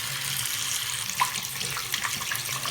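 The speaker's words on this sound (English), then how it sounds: "Now it's time to fill up my hot water bottle for my liver treatment." Tap water runs steadily into a hot water bottle, a close, continuous gush from the faucet with a few small splashes and gurgles and no talking.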